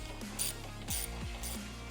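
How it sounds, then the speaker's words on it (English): A ratchet clicks in quick bursts while backing out T30 bolts on a Can-Am Defender, close and fairly quiet, with no talking. "Now we will need to remove the 2 T30 bolts in the upper rear."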